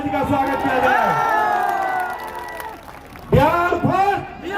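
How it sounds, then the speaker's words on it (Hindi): A large crowd at a political rally in Bihar cheers and shouts continuously, with loud whoops and raised voices. A louder surge comes near the end, while an announcer's amplified voice carries over the noise. "एक बार जोरदार ताली से हमारे राष्ट्रीय जी का स्वागत किया जाए।"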